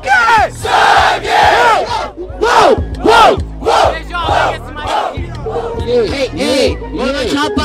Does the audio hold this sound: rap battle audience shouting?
yes